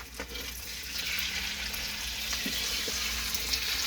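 A loud, steady sizzling hiss of food frying in a pan over high heat, with faint clinks and stirring noises underneath.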